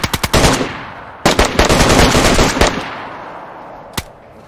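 Video game gunfire in Maelstrom: two quick bursts of close, loud automatic fire with hard rapid cracks, then a single isolated shot near the end as the echo dies away.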